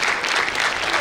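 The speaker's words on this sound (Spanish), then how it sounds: "Un fuerte aplauso para Jaime Garba." A burst of enthusiastic applause from a crowd, steady clapping filling the whole moment.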